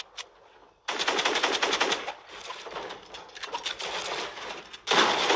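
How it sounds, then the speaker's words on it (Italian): Rapid submachine gun fire in a video game, several sustained automatic bursts separated by short pauses, loud and close with sharp crackling shots. "nei momenti grigi usi la mitraglietta"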